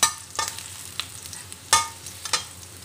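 Onion and garlic brown in a hot pan, a low sizzle broken by several sharp scraping strokes of a spatula at irregular intervals, close and clear with no voices.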